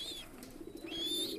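Pigeons suffering from pox, with a low rhythmic cooing running steadily through the short stretch alongside a few brief higher bird calls, fairly close and moderately loud, with no talking.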